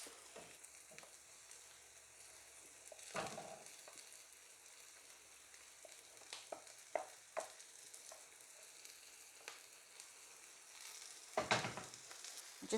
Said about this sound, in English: into the melted butter, we're just going to add our onions